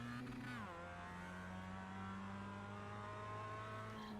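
Race car engine in the iRacing sim wails loud and close, its pitch dropping sharply as another car passes, then settling into a steady high-revving drone.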